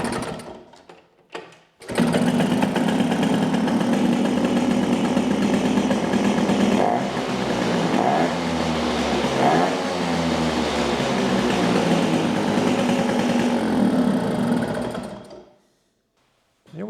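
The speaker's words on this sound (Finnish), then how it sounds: "Tähän mopo käyntiin." A moped engine runs on an inertia dyno, buzzing loudly and continuously for about thirteen seconds with rising and falling revs, then cutting off into near silence.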